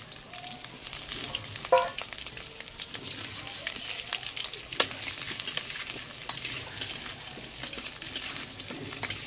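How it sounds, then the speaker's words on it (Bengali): Potatoes frying in a wok over a wood fire, a soft steady sizzle with occasional pops and crackles, fairly faint in a quiet room with light background sounds. "আলুটা ততক্ষণে ভাজা হোক লাল করে।"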